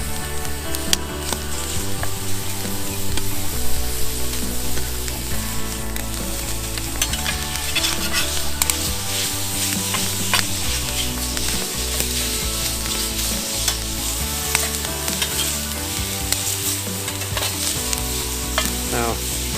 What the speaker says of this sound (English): it's time to start frying the bacon